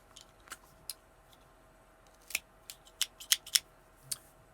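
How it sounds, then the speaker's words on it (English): A V cutter snipping the cap of a Bolivar Cofradia Churchill cigar, heard as a few faint, sharp clicks and snips scattered across a quiet room, clustered in a quick series near the end. "So let me just do a little V cut here."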